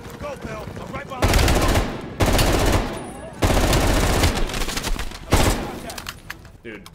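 Automatic weapon fire in the Black Ops Cold War campaign comes in four long, loud bursts of rapid shots separated by brief pauses, close-up and dominant.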